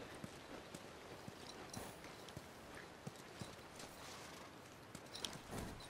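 Horse hooves clip-clopping in The Last of Us, at a hydroelectric dam settlement: a steady, uneven run of soft hoof knocks at moderate distance over a constant ambient wash, with no talking.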